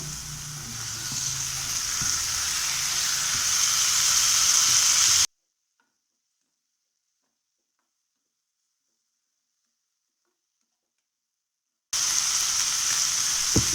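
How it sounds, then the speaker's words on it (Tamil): Tomatoes sizzle and sputter in hot oil for bread chilli, a steady frying hiss that cuts to silence partway through, then returns at the end. "தக்காளி நல்லா வதங்கி வரட்டும்."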